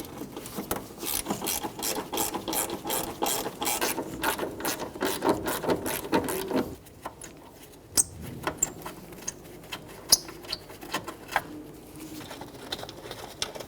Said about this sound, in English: With a 10mm wrench or socket, there's 2 mounting bolts on the top here.